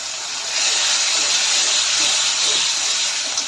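Spice paste of mace, nutmeg, peppercorns and cloves poured into a hot pan for a mutton dish with whole garlic, giving a loud, sustained steamy hiss that swells and holds.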